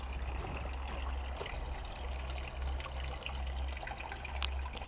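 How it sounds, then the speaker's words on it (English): Gentle continuous trickle of water from a redesigned garden water feature, faint and steady with a low hum underneath and no voices. "I redesigned the water feature as well."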